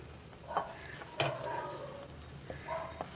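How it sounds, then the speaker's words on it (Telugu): Mushroom masala curry frying in a pan, with soft sizzling under several scraping stirs of a spoon against the pan, spaced out and close by. "ఈ మసాలా బాగా వేగాలండి వేగితేనే ఆ టేస్ట్ బయటకు వస్తుంది అడుగంటుతుందని మధ్య మధ్యలో తిప్పుకుంటూ వేపుకోవాలి"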